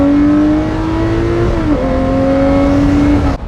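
A Lamborghini Murcielago LP640 Roadster's V12 howls loud and close in a sustained rev, pitch climbing, dipping briefly, then rising again before cutting off abruptly.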